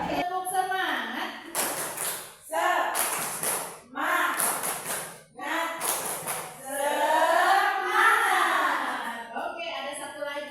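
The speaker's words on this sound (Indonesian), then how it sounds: "biar tidak ngantuk, kita tepuk dulu ya ibu-ibu ya semuanya" A group of women chant and clap together in a rhythmic 'tepuk semangat' clap routine, sharp hand claps landing in bursts between stretches of sung, call-like voices.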